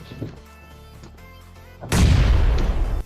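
A grenade goes off in the PUBG battle-royale shooter: after a quiet stretch of faint game sounds, one loud, deep blast erupts and rolls on as a rumbling tail to the end.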